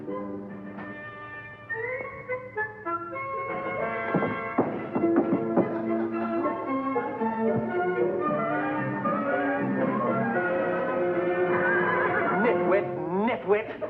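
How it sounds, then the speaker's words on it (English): A horse whinnies repeatedly in long, loud neighs, with a few hollow hoof clops and thumps in between, close by and clear, with a voice briefly heard. "I'm going to sit up on a lovesick horse"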